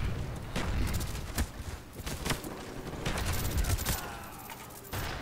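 Call of Duty: Black Ops gunfire in a Domination match on the Nuketown map, with dense, continuous bursts of automatic shots and booms that fill the whole stretch and sound loud and near.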